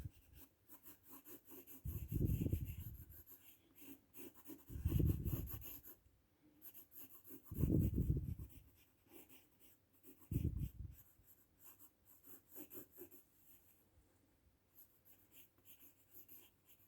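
A pencil sketches ellipse lines on paper, several slow sweeping strokes drawn one after another in a steady rhythm, close and fairly quiet with soft scratchy rubbing between them and no speech.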